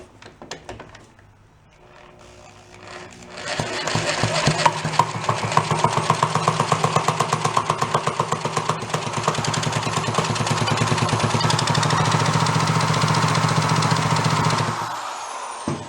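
A junked, free Suzuki four-wheeler engine cranks and sputters to life, wired to run backwards, settling into a loud, steady, rough running drone with rapid knocking pulses that cuts off abruptly at the end.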